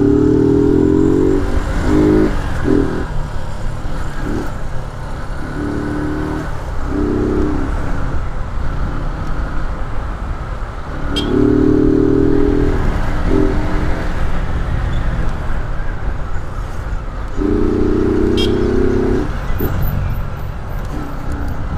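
Motorcycles pass through busy street traffic in São João da Boa Vista, Brazil, their engines rising in several loud revving bursts over a steady, close roar of road noise.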